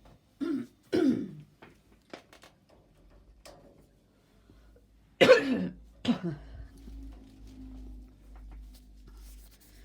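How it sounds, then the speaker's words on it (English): A person with a throat irritated after tonsillitis clears their throat indoors, two short rough bursts early on, then a louder, harsher pair in the middle, followed by faint handling noises and a low hum, close by with no talking. "Sorry if you hear me clearing my throat"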